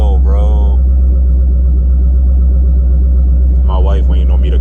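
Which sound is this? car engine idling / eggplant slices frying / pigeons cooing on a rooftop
car engine idling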